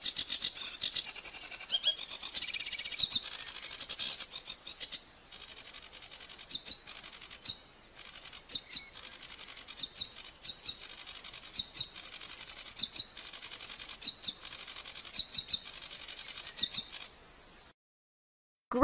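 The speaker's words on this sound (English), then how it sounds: "Garden warbler." A garden warbler delivers a long, rambling stream of rapid, high warbling notes, near and continuous for most of the stretch before falling silent at the end.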